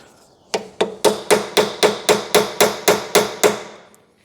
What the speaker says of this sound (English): Have you got a screwdriver we can hit the end of safely?